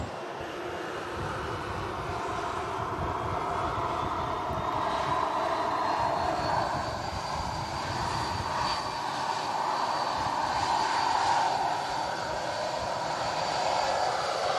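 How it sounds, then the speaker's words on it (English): Ryanair jet arriving from Charleroi and landing at Manchester Airport in strong gusty wind, a steady distant engine roar with wind noise that holds throughout and slowly rises in pitch. "Ryanair next to land from Charleroi."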